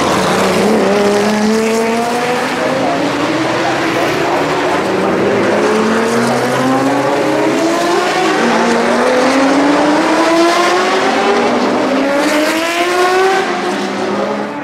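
A 2.8-litre Porsche Carrera RSR from the 1970s races around the Norisring street circuit at a classic event, its engine loud and close, rising through repeated gear climbs with a steady snarling drone.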